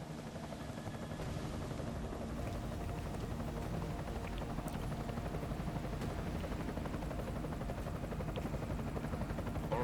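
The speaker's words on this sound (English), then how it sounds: "Enemy helo sighted." A helicopter in the video game Deus Ex Mankind Divided drones steadily at a distance, a continuous low rotor rumble with no breaks.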